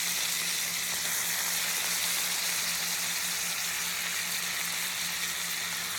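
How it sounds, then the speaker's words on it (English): Beef rouladen browns in melted butter in a pan, giving a steady, even sizzle that continues without pause and without speech. "we're gonna brown the Rouladin on all sides"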